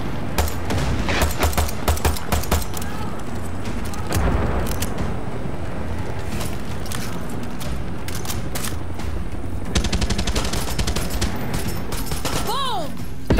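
Video game gunfire from Far Cry 6 comes in bursts of rapid shots with some louder single cracks, mixed with game effects and someone talking over the action.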